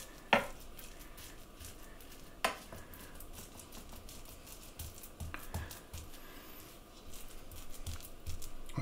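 A tablespoon presses a carrot and seed flapjack mixture down in a tin, producing soft scraping and patting with a few sharp metallic taps, faint and intermittent against a quiet room.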